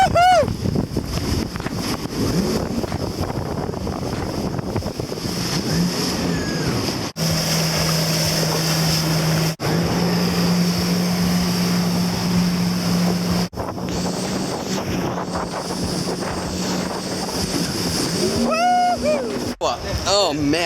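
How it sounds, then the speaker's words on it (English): A jet ski rides across open water with a steady engine drone, splashing and heavy wind buffeting on the microphone, the motor pitch rising and falling for about twenty seconds while a rider whoops and shouts. "I just got done jet skiing and that was absolutely a blast."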